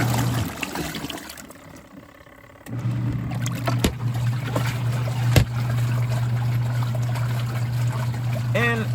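A Rovsun portable washing machine spins its drum with water inside, giving a steady motor hum over continuous sloshing and trickling. The hum briefly drops out near the start, and a few knocks punctuate the whirring.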